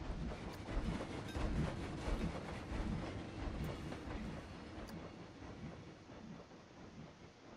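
A train rolls along in a Wild West video game, a steady rumbling clatter of wheels on track that stays loud, then slowly eases off toward the end.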